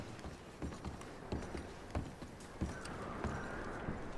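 Horse hooves clip-clop in Red Dead Redemption 2, a faint, loosely spaced run of soft thuds over a steady background hum, with no speech.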